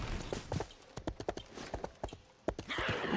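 Horse hooves clip-clop in the video game RIFT as a steady, brisk rhythm of sharp hoofbeats, fairly quiet, with a faint whinny-like sound near the end.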